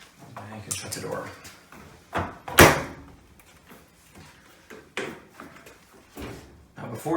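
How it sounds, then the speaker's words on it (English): A Samsung front-load washer door is pushed shut during a door seal repair, giving one solid close-range thud midway, with someone talking before and after. "Shut the door."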